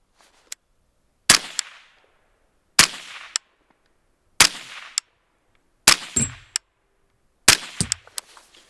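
Law Tactical ARIC rifle with a 16-inch pinned barrel and Sierra 5 optic fires five sharp shots outdoors at a steady, unhurried pace, each crack trailing a short echo, loud and close.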